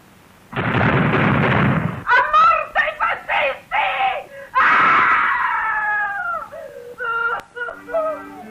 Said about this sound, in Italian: grida di una donna che alle fosse ardeative ha riconosciuto suo figlio